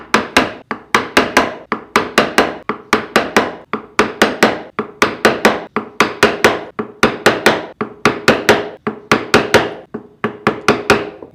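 A mallet strikes a fine chisel carving wood, producing steady, evenly spaced sharp knocks, close and loud, repeating in short runs with brief pauses.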